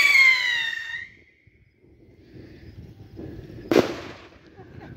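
Firecrackers go off at a São João bonfire celebration outdoors, with a fading whistling rise at the start and then a single sharp, loud burst after a quiet stretch.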